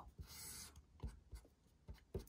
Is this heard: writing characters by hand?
yes